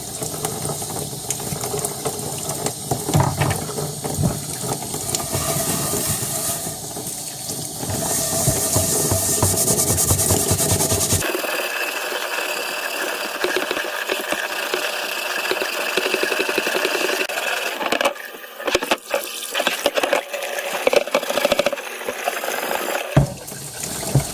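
Scrubbing a misused cast iron pan with grease-fighting dish soap, close and fairly loud, with a continuous wet scraping texture under running water throughout, and no talking.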